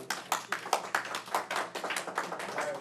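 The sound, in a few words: audience applauding at a city commission meeting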